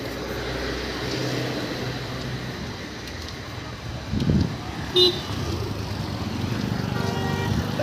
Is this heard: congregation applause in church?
no